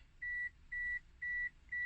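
Four evenly spaced electronic beeps, each about a quarter second long, repeat at a steady rhythm in a quiet room during master key registration on a 2004-2008 Toyota Corolla.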